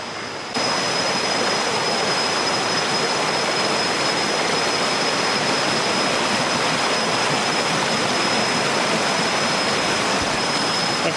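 Waterfall on a river in the Transkei region of South Africa, a steady, loud broadband roar of falling water that holds constant throughout, close by and with no voices.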